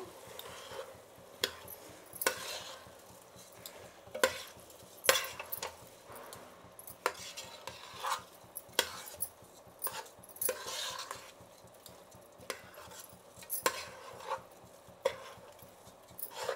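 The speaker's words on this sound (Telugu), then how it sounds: "ఇప్పుడు ఈ బియ్యం కూడా బాగా ఈ మసాలాల్లో మిక్స్ చేస్తాము." Rice being stirred into masala in a pot for a pulao made with Nellore broken rice, with intermittent clicks and scrapes of a spoon against the pot over a quiet, steady background.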